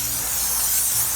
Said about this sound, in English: first thing I'm gonna do is just spray off the fish to try to knock some of that slime off